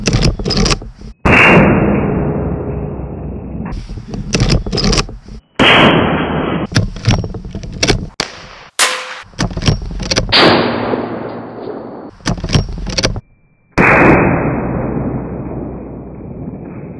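Several loud, sharp gunshots are fired at a brake drum outdoors, about six separate blasts spaced a few seconds apart, each followed by a long ringing decay, with no speech.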